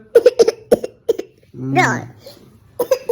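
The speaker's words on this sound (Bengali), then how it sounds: "ইচ্ছে করে কাশছে আর মুখে হাত দিয়ে কাশতে হয়" A small child coughs on purpose in a quick series of short, close, loud bursts, pauses for a longer voiced throaty sound, then coughs again.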